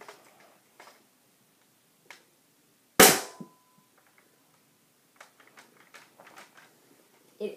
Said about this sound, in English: I'm gonna shoot the bed.